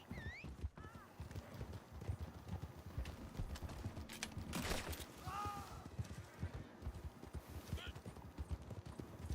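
Horse hooves pounding at a gallop in Red Dead Redemption II, a steady rapid clip-clop with occasional whinnies and someone talking over the top.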